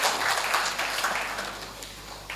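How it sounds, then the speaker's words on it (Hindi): An audience at a kavi sammelan and mushaira poetry recital breaks into applause, a thick wash of many hands clapping together that slowly thins out toward the end. "जोरदार तालियों से आप उनका अभिनंदन।"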